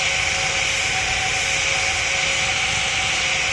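A fixed-wing airplane's engine in a video game, heard as a loud, steady jet-like roar with a constant high whine, holding unchanged throughout with no talking.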